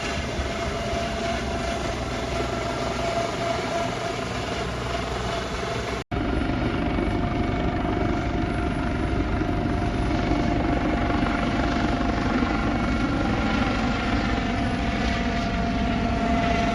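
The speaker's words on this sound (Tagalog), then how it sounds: "Nagpalipad din ang Chinese Navy ng mga helikopter upang itaboy ang mga Pilipino sa mismong exclusive economic zone ng Pilipinas." Chinese Navy helicopters flying, a steady loud rotor and engine roar with a continuous chopping texture, briefly cut and then resuming at the same level.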